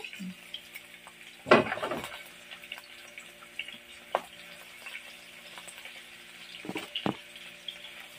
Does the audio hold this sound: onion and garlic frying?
yes